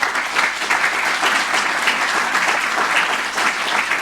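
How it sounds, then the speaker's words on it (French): Audience applause at a ten-year anniversary event, a dense, steady burst of many hands clapping throughout, loud and close with no break. "je vous remercie de les applaudir."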